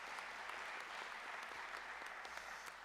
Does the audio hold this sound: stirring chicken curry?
no